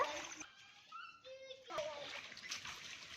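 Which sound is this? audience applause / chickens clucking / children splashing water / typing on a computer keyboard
children splashing water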